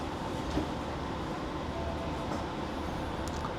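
The Argo Dwipangga Luxury New Generation train departs Tugu station in Yogyakarta. A steady, dense rail rumble rolls on without letup, with faint clanks here and there and no voices.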